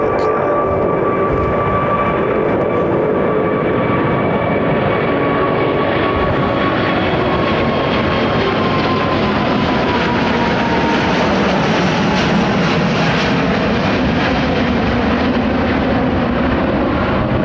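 A large jet airliner takes off and climbs overhead from runway 09R at London Heathrow, a loud, continuous engine roar with a whining tone that swells and spreads across the whole stretch.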